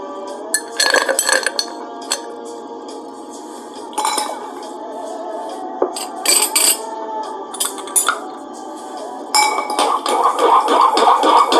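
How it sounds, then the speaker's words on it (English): Ice clinking against glass as a Halloween cocktail is stirred at a bar, bright irregular chinks and rattles in separate bursts that grow busier toward the end, close and clear with no talk. "Now you can drop an ice on there and stir."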